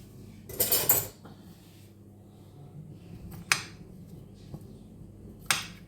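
Stirring jamón in a cooking pan brings a few sharp metallic scrapes and clinks from the utensil: one longer scrape near the start, then two quick clanks, set against a quiet room.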